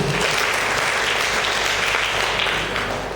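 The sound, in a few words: audience applause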